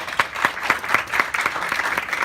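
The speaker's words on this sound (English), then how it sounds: "Let's now give director Samantha Lee a warm round of applause." Audience applause for a film director at a festival screening, a short burst of rhythmic clapping from a modest crowd, fairly close and steady throughout.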